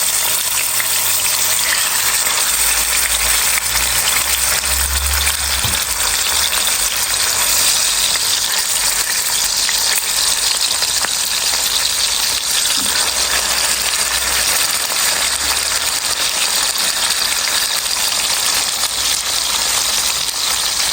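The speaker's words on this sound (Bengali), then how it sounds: "তো মাছগুলো ভাজবো এখন" Koi fish rubbed with salt and turmeric sizzle in hot oil in a pan, giving a loud, steady, close hiss that holds unbroken throughout.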